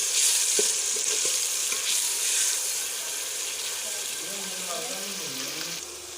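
Steady hissing sizzle of crushed onion and garlic frying in hot oil, with occasional clinks of a utensil and a faint voice speaking underneath.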